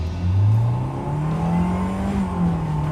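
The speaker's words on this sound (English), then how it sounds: "I'm just gonna step on the gas as hard as I can right when I get off the brake and see what happens." A Mercedes SLK 230 engine, fixed for slow throttle response, revs hard under full acceleration from a stop, a loud close drone rising quickly in pitch and then holding steady.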